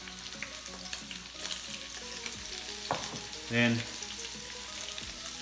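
Shrimp sizzle and fry steadily in a hot pan, with scattered stirring clinks and a brief louder hiss partway through; a voice speaks briefly over the cooking.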